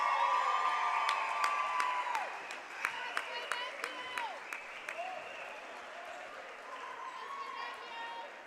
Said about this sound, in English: Nice crowd on hand to give him a warm welcome.